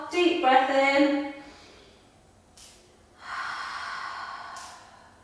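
A slow, deep breath drawn in and let out during a yoga stretch with the forehead resting on the floor, breathy and close, following a few words of instruction.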